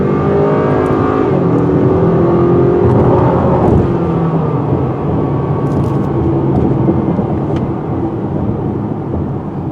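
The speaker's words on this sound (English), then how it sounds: "This engine loves to rev." A 2020 Acura RDX turbo engine revs hard in sport mode, a loud, sustained roar climbing and shifting in pitch under constant road noise, close and continuous.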